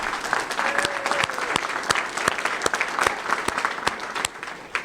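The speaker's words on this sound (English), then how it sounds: "get a deserved round of applause" A round of applause at the grand opening of a county family court in New Rochelle, loud, continuous clapping from a crowd with sharper individual claps standing out, fading near the end.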